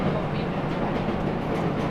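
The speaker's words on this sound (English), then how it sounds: "So we're on the train." A train to Corrour in Scotland rolls along the rails with a continuous low rumble and rattling, heard steadily from inside the carriage.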